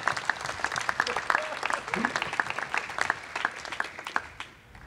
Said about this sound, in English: Oh, you can applaud for that, sure.